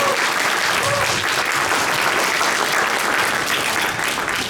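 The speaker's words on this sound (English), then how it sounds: "One more time, a big round of applause for Andy and Lindsey and Jeremy." Sustained audience applause for guests at the close of a panel discussion, a continuous loud wash of many hands clapping at even intensity throughout.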